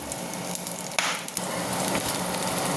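Rendered pork fat sizzles in a hot pan while the meat is sautéed, a dense continuous crackle with a brief stir scrape, heard up close without talking.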